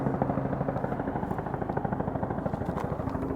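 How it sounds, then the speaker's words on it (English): A large firefighting helicopter working a wildfire throbs overhead with a steady, rapid rotor chop and a low engine drone, loud and continuous with no voices over it. "That is a big helicopter."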